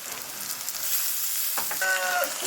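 Onions frying with ginger garlic paste for chicken masala, a continuous close sizzle with faint stirring clinks toward the end, no voices.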